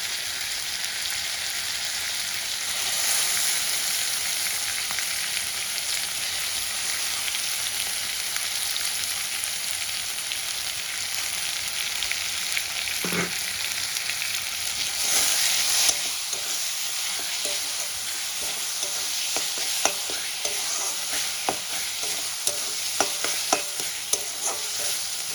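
Chicken patiali fries in a pan with tomato and soaked kasuri methi, a steady loud sizzle running throughout. A spoon scrapes and stirs with intermittent clatters and bursts of spitting near the middle and end.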